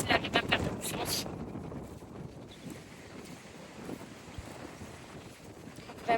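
Wind gusts buffet the microphone at an outdoor riding arena, a broad, rushing roar that stays loud and steady throughout, with brief voice-like sounds at the start.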